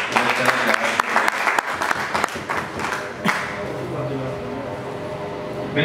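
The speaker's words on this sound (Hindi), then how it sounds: "आप ताली बजाएं" Listeners at an Urdu poetry recital by a poet clap. Sharp, closely spaced hand claps ring out for about three seconds, then fade into murmur and a voice.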